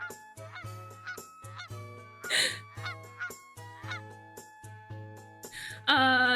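A flying goose honks again and again in a regular rhythm, clear and fairly close, joined by brief louder bursts of noise near the end.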